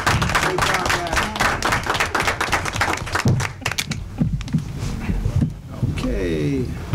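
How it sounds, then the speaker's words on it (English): Applause for the royal court at a village board meeting, a burst of clapping from a small audience lasting a few seconds before thinning out as voices take over. "Let's give our royal court another round of applause"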